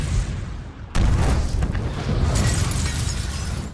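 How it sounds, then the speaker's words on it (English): A loud strip mall explosion from the film The Other Guys bursts in suddenly after a quieter opening, followed by a sustained roaring rumble of blast and debris. "Strip mall explosion, The Other Guys."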